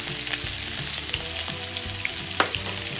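Spring onion bulbs fry in a pan for fried rice, with a steady, close hissing sizzle and a few soft scrapes of stirring throughout, without any talk.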